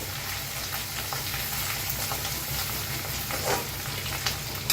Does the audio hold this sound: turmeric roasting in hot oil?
yes